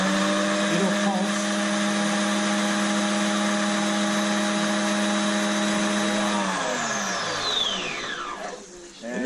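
A mini food processor blends steadily with a loud, close motor whine, then spins down with a falling pitch as it stops near the end.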